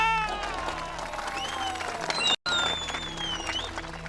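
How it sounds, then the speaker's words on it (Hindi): An audience claps for a candidate's election speech, steady applause with a murmuring crowd underneath and a brief cut partway through. "तालियां!"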